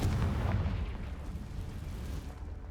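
A deep explosive boom from the Confringo spell in the Hogwarts Legacy video game, rumbling loud at the start and then trailing off into a low, sustained roar.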